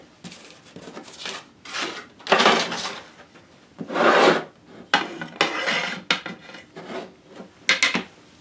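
Hand sawing of a fret slot for a 25-inch PRS-style scale guitar fingerboard in a miter box, heard as a run of rasping back-and-forth strokes in uneven bursts, close and fairly loud with short pauses between.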